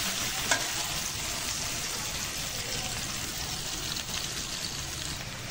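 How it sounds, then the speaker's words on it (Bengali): Chopped onions fry in a hot pan with a dense, steady crackling sizzle that runs throughout, broken by one sharp pop near the start. "পেঁয়াজগুলো কি সুন্দর দেখো, চটচট চটচট করছে"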